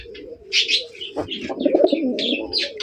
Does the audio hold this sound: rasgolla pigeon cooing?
yes